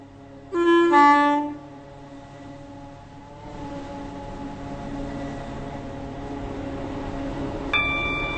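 A three-coach train in a Roblox railway game sounds a short horn blast, then rumbles steadily along the track with a rising hum, a brief tone chiming near the end, with no voices.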